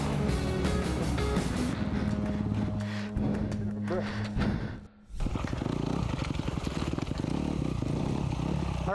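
An enduro motorcycle on Bridgestone Battlecross E50 tires roars loudly and steadily over a loose, rocky downhill trail, its engine briefly dropping off about halfway before revving back up hard.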